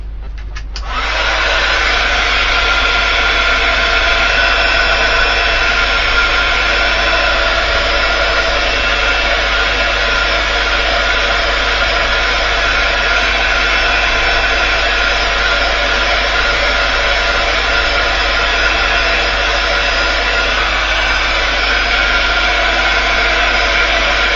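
A heat tool or dryer blows steadily over ink on cardstock, a loud continuous whirring hiss starting abruptly and holding unchanged for over twenty seconds, with no talking.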